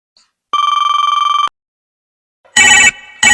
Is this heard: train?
no